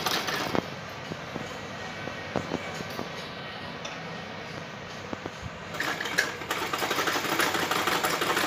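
A sewing machine stitches a fabric cover sewn from leftover cloth, running in short bursts at first and then in a louder, steadier whir near the end, close by and with no speech.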